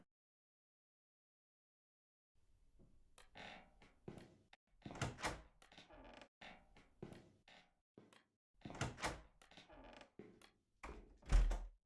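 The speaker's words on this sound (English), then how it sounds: "He goes and opens that door." A door creaking open as a sound effect in a film edit: after two seconds of silence comes a run of drawn-out, uneven creaks and knocks that grows louder and ends in a firm thunk.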